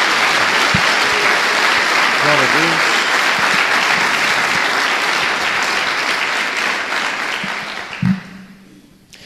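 A church congregation claps loudly and continuously for several seconds, then the applause fades away, with a voice briefly speaking over it.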